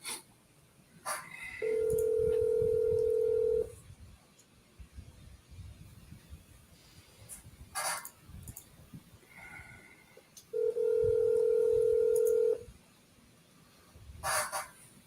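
A telephone call rings out in two long, steady electronic tones, each about two seconds, separated by a quiet gap with faint background noise.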